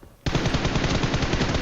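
Rapid automatic gunfire in the video game PUBG Mobile, a loud continuous burst of shots starting abruptly after a brief quiet moment and carrying on without talk.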